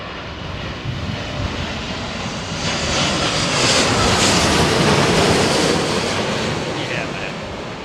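An Air Canada airliner's engines roar close by in high winds at Heathrow, the noise swelling to a loud peak midway before easing, with gusts rushing across the microphone and brief voices beneath.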